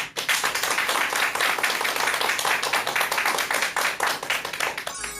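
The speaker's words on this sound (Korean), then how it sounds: "여러분 큰 박수 부탁드립니다" A studio audience at a Korean lecture program breaks into loud, sustained applause, dense overlapping claps continuing steadily for about five seconds with no talking.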